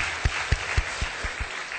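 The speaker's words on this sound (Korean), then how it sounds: "한번 큰 박수로 여러분 이 사역에 격려해 주시길 바라겠습니다." A church congregation claps together in a steady, evenly spaced rhythm, moderately loud and filling the room for a couple of seconds, with no voices.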